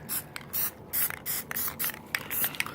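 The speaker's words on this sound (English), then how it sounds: "I'm going to spray these two just to give these a good layer" Aerosol can of Plasti Dip rubber coating spraying Cub Cadet XT2 mower parts, heard as a series of short hissing bursts of about half a second each, close up and with brief gaps between them.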